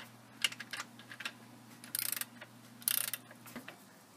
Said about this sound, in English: We're going to start by removing the slave cylinder mounting bolts.